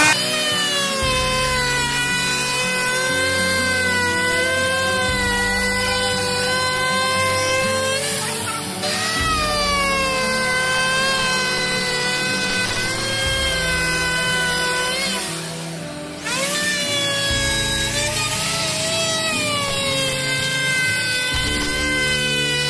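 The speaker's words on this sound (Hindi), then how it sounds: "इसमें राउटर चला लेते हैं अभी।" An electric wood router screams steadily while cutting a wooden double bed frame, its pitch dipping and recovering in repeated passes with brief pauses, loud and close.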